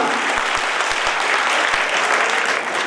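Applause at a college National Service Scheme cultural event, dense and steady clapping from a crowd of students, sustained and fairly loud throughout with no voices over it.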